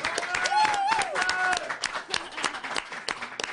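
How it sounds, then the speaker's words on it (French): An audience bursts into applause, a dense patter of many hands clapping, with voices and a brief whistle rising over it. "tout de suite, on va applaudir, s'il vous plaît, Mathias de la SPTT Lunel."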